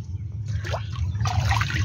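Water of the Chitra river flows and trickles close by on a rainy day, with soft gurgling bursts over a low, steady rumble.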